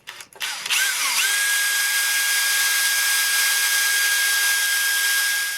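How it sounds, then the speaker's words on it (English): An electric drill spins up after a click and runs steadily at high speed boring into a Big Mouth Billy Bass, a loud continuous whine with no talking. "And now I want to drill a hole where they get connected to."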